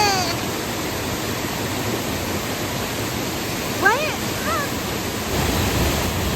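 A swollen river in the rainy season rushes loudly in a steady broadband roar, with a brief chirping sound partway through and people talking nearby over the water.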